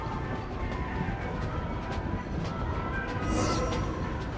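Steady train ride aboard a train in Genshin Impact, a continuous loud rumble with rolling rail noise and a brief brighter hiss near the end, no voices.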